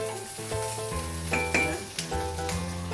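Chopped spring onion and spices frying in a little cooking oil in a pan for a Chinese cabbage and pork stew, a steady close sizzle with a melodic tone running underneath.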